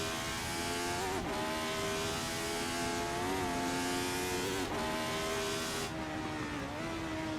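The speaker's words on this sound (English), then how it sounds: "and now we are going full throttle" Race car held at full throttle through the fast corners of the Clermont-Ferrand circuit, engine howling loud and close with steady high revs, brief dips at gear changes and no talk.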